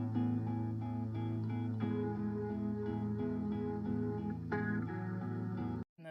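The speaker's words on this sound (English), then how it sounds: "Then I added in the second rhythm guitar part, which made it sound like this." Rhythm guitar part of a cover song, layered over a second guitar, with steady chugging chords in an even pulse. The playing stays close and full, then cuts off abruptly near the end.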